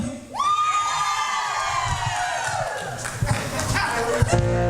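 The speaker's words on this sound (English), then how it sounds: "the more I want to hear you girls scream" A crowd of girls at a senior center volunteer event screams and cheers loudly and continuously, high shrieks rising over the din of the room. A few sharp shouts and claps break through near the end.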